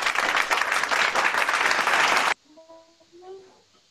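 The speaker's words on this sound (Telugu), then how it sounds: "అక్క సంహిత స్పెషల్ క్లాప్స్." A children's club group claps loudly and briskly for a girl named Samhita for about two seconds, then it cuts off abruptly and a faint voice follows.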